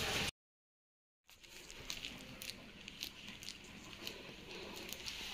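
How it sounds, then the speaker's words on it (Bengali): Steady rain falls outside a house, a continuous soft hiss with fine patter and occasional sharper drips, heard after a brief moment of total silence. "বাইরের অবস্থা খুবই খারাপ, বৃষ্টি আর বৃষ্টি।"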